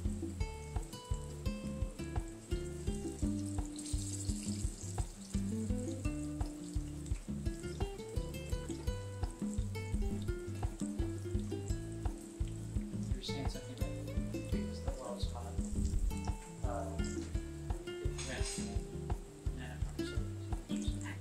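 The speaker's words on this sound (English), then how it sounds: "if the oil is hot, it minimizes it from sucking up so much oil in the banana" Pieces of burro banana fry in hot oil with a steady, crackling sizzle that runs throughout, close and continuous, with occasional stirring noises and a voice talking over it.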